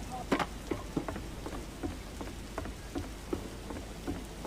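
Light rain in a Roblox video game patters with scattered, distinct drops ticking on a surface, fairly quiet and steady, no voices.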